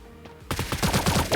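A rapid burst of automatic gunfire rattles out in the mobile battle royale game Sausage Man, a quick string of loud close shots after a brief quiet moment.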